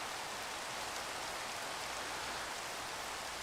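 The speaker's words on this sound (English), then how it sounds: "It's cutting out the sound effect because of the rain." Rain falling in the Minecraft video game makes a constant, even hiss of fine drops, quiet and unbroken for the whole stretch with no voices over it.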